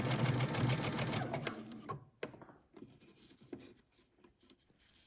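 A sewing machine zigzag-stitches elastic onto the lining seam allowance of a dress, a brisk close whir for about two seconds that stops abruptly and leaves soft fabric rustles and handling clicks.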